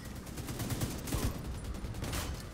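Dense bursts of automatic gunfire from The Division 2's New York DLC crackle nonstop for a couple of seconds, sharp overlapping shots packed close together and loud throughout.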